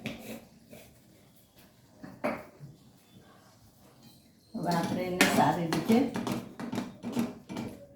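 Spices being stirred into bhaji in a pan, with a spoon scraping and clanking against the metal in a quick run of strokes after a few sparse taps, moderately close and loud.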